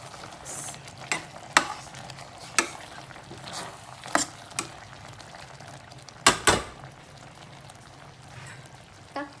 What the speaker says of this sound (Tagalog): Haluin sa gilid.